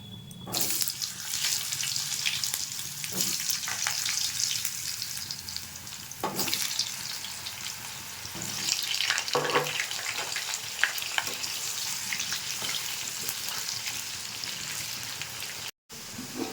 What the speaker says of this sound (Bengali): এই তেলটাতে আমি আলুটা ভেজে নেবো